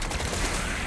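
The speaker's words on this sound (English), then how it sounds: "I'm receiving fire from enemy ground troops!" Dense gunfire from enemy ground troops in Halo Wars 2, a continuous, loud wash of overlapping shots with no clear gaps, filling the moment without any voices.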